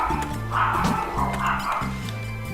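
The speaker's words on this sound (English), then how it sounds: "I've got barking dogs." Several household dogs bark and yip in repeated bursts, fairly close and loud, with a few whimpering tones mixed in over a low background hum.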